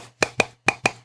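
Coconut shells knocked together in imitation of horse hooves give four hollow clops in two quick pairs, close and crisp over a faint low hum.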